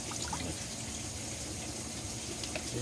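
Water draining off freshly washed calamondin seeds, a steady faint trickling and splashing that continues without pause, no talking.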